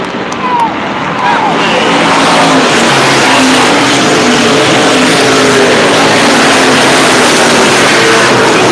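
Race cars roar continuously around the Lancaster oval, led by Dustin Nova's 96 with another car tight on its rear bumper coming out of turn four. The engines are loud and steady, rising and falling in pitch, with a voice faintly underneath.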